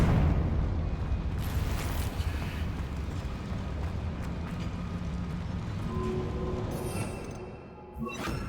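A Confringo blasting spell explosion in Hogwarts Legacy, a loud rumbling blast followed by sustained roaring debris and rumble that fades before a fresh burst near the end.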